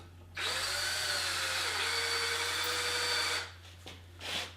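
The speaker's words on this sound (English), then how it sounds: "Let's drill my 29 hole now through that metal." A power drill with a number 29 bit bores through metal during a rifle lock and tang bolt build, whining steadily for about three seconds before stopping, followed by brief clicks and handling noise.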